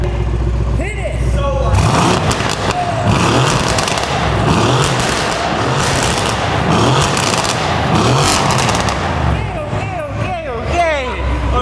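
Straight-piped Mercedes-AMG C63 S with new downpipes, its engine revved hard and held at a loud, raspy roar for several seconds, with people's voices cheering over the noise before and after.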